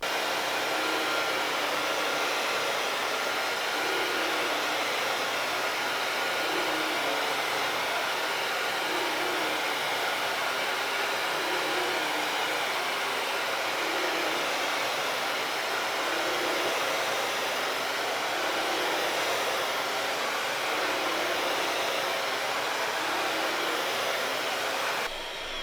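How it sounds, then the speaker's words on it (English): A Bissell Crosswave HydroSteam vacuum runs on carpet, giving a loud, steady motor whir and airy rush that holds unbroken for the whole stretch, with no voices. "If the vacuum will even work on this carpet."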